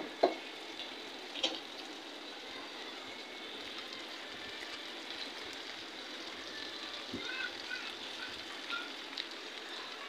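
Fish added to a pan of sautéed potatoes for a home-cooked curry, frying with a continuous soft sizzle and crackle, a few sharper pops near the start, steady and close with no talk.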